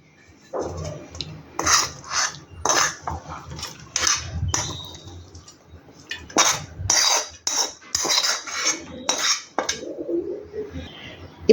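Cooled, roasted ingredients for an old-style chutney are tipped and scraped from a pan into a mixie jar, a string of close, uneven rattles, scrapes and taps with short pauses between, no voices.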